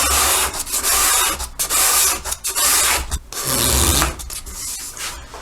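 Sandpaper rubbing back and forth along a wooden short-scale bass guitar neck while it is shaped to an even radius, giving loud, close rasping strokes in an uneven rhythm with short gaps between passes.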